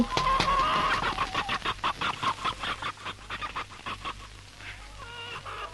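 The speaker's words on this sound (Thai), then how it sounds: "พอเปิดประตูเล้าเท่านั้นแหละ ฝูงไก่ ต่างก็พากันวิ่งกรูเบียดเสียกันออกจากเล้า" A flock of chickens clucks loudly in a radio drama scene as the coop door is opened, rapid overlapping clucks and squawks in a dense burst that thins out toward the end.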